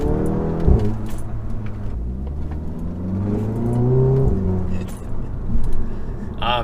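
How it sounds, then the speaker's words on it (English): An Audi A3 with upgraded turbo charge pipes pulls from inside the cabin, the engine rising through repeated revving pulls with gear changes between them and a faint turbo whoosh riding over the moderate, close engine note. "you gotta love that nice quick spool"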